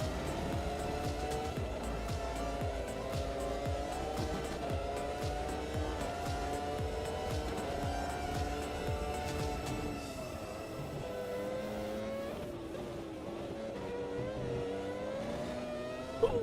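Race car tyres squealing under understeer in the AMS2 racing game, with a squared-off tyre, a continuous high whine over a revving engine that shifts and eases midway, steady and close.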